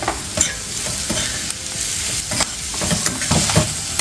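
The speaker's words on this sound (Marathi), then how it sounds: "आता आपला कांदा परतला आहे, त्यातच आपण गाजर टाकू" Onion and carrot frying and being stirred in a pan for vermicelli upma, loud close sizzling with repeated scraping stirs of a spoon, no voices.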